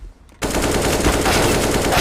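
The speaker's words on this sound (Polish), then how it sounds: "Mecz już się rozpoczął, widzimy wymianę strzału." Gunfire exchanged in the Counter-Strike video game: after a short quiet moment, a loud sustained burst of rapid automatic fire starts abruptly and continues without pause.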